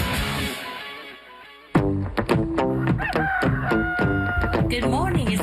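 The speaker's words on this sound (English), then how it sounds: "If the rooster's crowing, it's time for Marty and McGee." A rooster crows loudly and close after a quiet stretch, with repeated harmonic calls and clucks continuing to the end of the clip.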